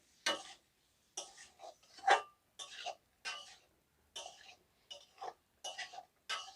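Fried duck eggs and potatoes are stirred in a pan with a spoon, about ten separate scraping strokes in a loose rhythm with quiet gaps between them, close and fairly faint.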